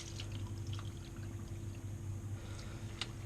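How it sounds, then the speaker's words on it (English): Water being poured into a pigeon sausage mix in a kitchen, a quiet steady trickle over a low hum, with a couple of soft clinks near the end. "do you want to add some of the water now?"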